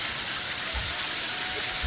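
Steady rain pours down in a continuous, even hiss with soft low thuds, close and without talk.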